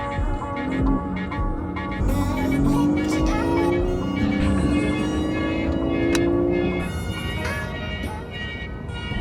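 A Porsche 911 (991) Carrera 4 or 4S being driven, its engine note rising steadily as it revs up through the gears, loud and close, with a faint voice briefly under it.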